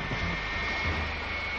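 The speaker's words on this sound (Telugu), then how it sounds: "వాళ్ళ ఫ్లైట్ బయలుదేరుతోంది." A jet airliner taking off, its engines a steady, loud roar with a sustained whine above it, unbroken for a short stretch.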